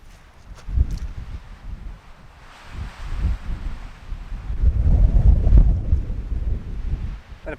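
Breezy wind on a hilltop blows across the microphone in uneven gusts, low rumbling buffets that swell and fade, strongest toward the middle, with faint rustling between.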